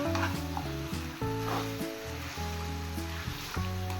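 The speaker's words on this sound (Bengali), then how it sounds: "গ্যাসের ফ্লেম হাই রেখে চিকেনটাকে 2 মিনিট আমি রান্না করে নেব।" Chicken sizzles in spices over a high gas flame for Chicken Maharani, with a constant hissing fry and occasional stirring sounds under steady background music.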